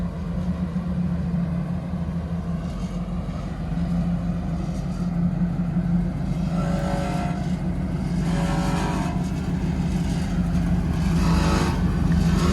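A Chevrolet Camaro's engine rumbles close by, its exhaust note raw and gritty from a header grinding, holding a steady low drone with slight swells in revs throughout.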